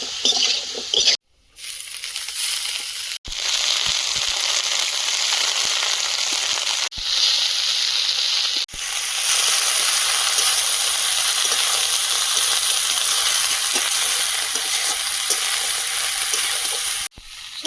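Greens are added to a pan of fried potatoes and stirred, giving a loud, steady sizzle broken by a few short scraping gaps.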